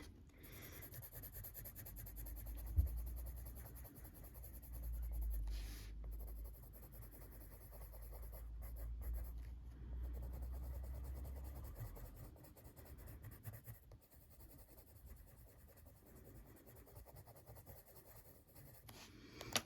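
Coloured pencil shading violet onto paper in a colouring book, a soft continuous scratchy rubbing of strokes heard close and quiet throughout, with brief pauses.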